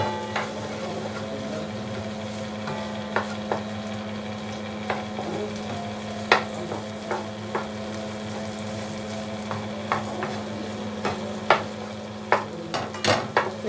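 Meat browns in a little butter and oil in a pan for Egyptian fatteh, with a constant low sizzle under repeated spoon clinks and scrapes as it is stirred, close and alone.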